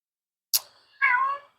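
A house cat gives a short sharp sound followed by one clear, drawn-out meow, close and alone in a quiet room.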